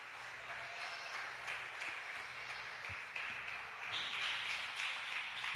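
Church congregation clapping hands in praise, a steady dense wash of applause throughout, moderately distant and even, swelling slightly toward the end.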